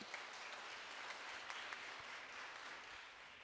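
Faint, steady applause from an audience at a middle school concert, a soft continuous wash of clapping with a few sharper claps, distant and low in level.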